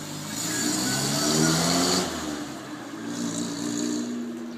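A 1966 Triumph TR4 sports car engine with an HHO generator kit revs loudly, its throaty roar rising then easing as the car pulls away, with no talking over it.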